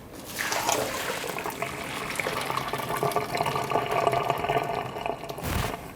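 Liquid poured out of a cooking pot while making mac and cheese: a steady, close splashing stream lasting several seconds, ending in a short thud, with no talking.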